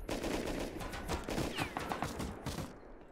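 Rapid bursts of automatic gunfire with loud, close reports and a few scattered single shots during a raid defence in the survival video game Rust.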